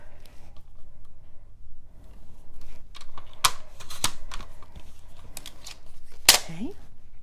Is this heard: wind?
no